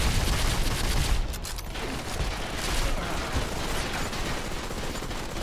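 Dense, continuous gunfire in the mobile shooter Modern Combat 5, a steady rattling stream of shots with a mechanical, clattering edge, loud and unbroken from start to finish with no talking.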